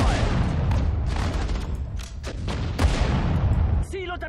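Battlefield gunfire and artillery from Sudden Strike 4, a World War II real-time strategy game, with dense overlapping shots and booms rolling continuously under shouted soldier voices, ending with a short electronic tone.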